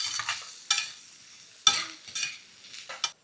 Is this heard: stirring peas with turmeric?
yes